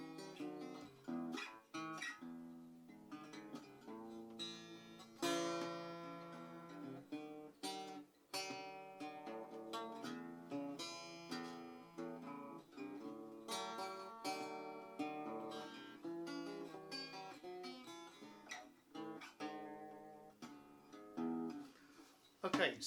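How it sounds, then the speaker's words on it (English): A Kay G101 steel-string acoustic travel guitar picks a Delta blues rhythmic pattern with bent notes and strummed accents, played solo and fairly quiet throughout. "That's the sound of the Delta blues"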